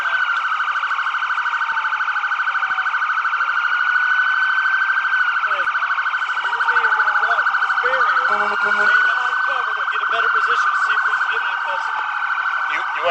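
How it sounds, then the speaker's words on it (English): Police car sirens wail continuously and loudly at a shooting scene, their rising and falling tones overlapping for the whole stretch, with faint voices occasionally underneath. "Guys, we need these sirens off."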